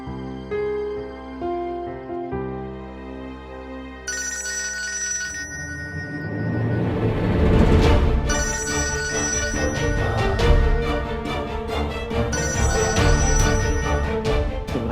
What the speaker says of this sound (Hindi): इमरान फोन क्यों नहीं उठा रहे?